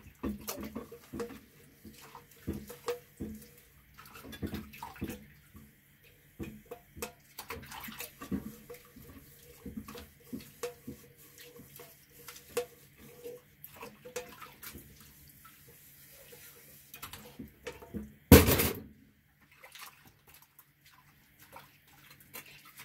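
Running water and clinking during washing up of dishes at a kitchen sink, with scattered clatter and splashing in an irregular rhythm throughout and one sharp louder knock near the end.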